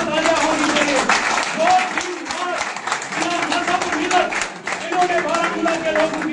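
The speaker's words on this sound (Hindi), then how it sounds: "इनके लिए जोरदार तालियां होनी चाहिए।" An audience at a community program in Baramulla gives steady applause for an award recipient, with a voice speaking over the clapping throughout.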